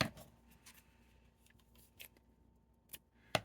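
Scissors snip off thread on a handmade heart-shaped sewn pillow, a few quiet crisp cuts scattered through near-silence, the sharpest snips coming at the end.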